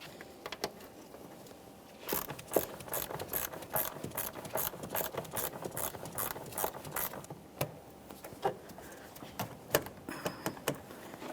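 Socket ratchet clicking in quick irregular bursts while loosening a hose clamp on the air inlet tube of a 2012-2015 Honda Civic 1.8L, close up with light metallic rattles and no talking.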